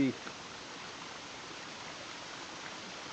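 The Trough waterfall flows beside a railway tunnel, a steady broadband rush of falling water that stays constant throughout after a brief thump at the start.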